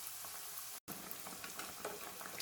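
Aloo tikki potato patties deep fry in hot oil with a steady, dense sizzle and crackle close by; the hiss breaks off for a split second, then carries on.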